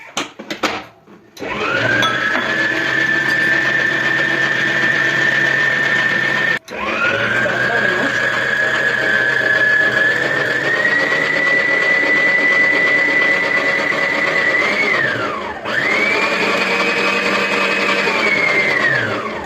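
Donut dough of flour, baking powder and salt being mixed by a motorized mixer that whirs loudly and steadily in three long runs, separated by two brief stops.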